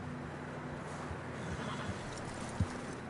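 Horses in Red Dead Redemption 2 whinnying with clip-clopping hooves, a low steady tone running beneath and one brief thump near the end.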